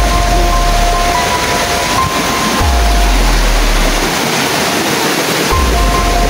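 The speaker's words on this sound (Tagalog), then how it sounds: "Sapa ito, tol." A flowing stream rushes continuously in a loud, dense wash, with a low rumble that drops out and returns partway through; no one speaks.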